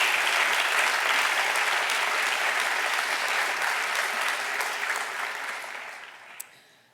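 A graduation-style recognition ceremony audience applauds student award winners, with sustained dense clapping that stays strong for several seconds before tapering off. A last lone clap comes near the end.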